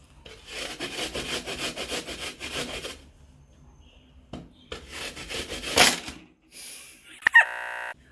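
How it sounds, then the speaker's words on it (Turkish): Peeled apples rubbed against a grater for an oat diet dessert, a run of rapid rasping strokes close by, then a pause and a second burst of scraping, followed by a few clinks and a short ringing tone. "Hemen rendeleme işlemine geçiyorum."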